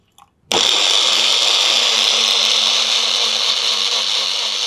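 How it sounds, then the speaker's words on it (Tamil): A countertop blender whirs amla juice with ginger, mint, lemon juice and water. A short knock comes first, then the motor starts abruptly and runs loud and steady to the end without talk. "ஸோ இதை இப்போ நம்ம பிளெண்டரில் வந்து போட்டுடலாம்."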